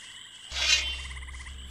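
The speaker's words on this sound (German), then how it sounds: "die Zikaden hier auf den Ästen" Cicadas on tree branches in the video game Gothic, a loud pulsing buzzy chirr that swells abruptly and holds steady over a low ambient hum.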